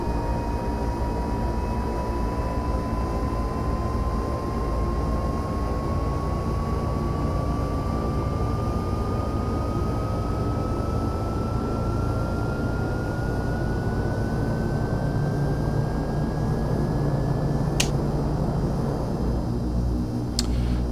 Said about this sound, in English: let's listen to the startup through the interior of the aircraft.